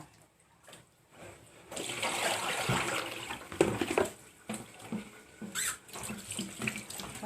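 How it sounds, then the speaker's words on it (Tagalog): Water runs from a kitchen tap into the sink while string beans are rinsed under it, a close splashing flow that stops and starts with clatters and brief breaks. "Hugasan ko muna itong sitaw."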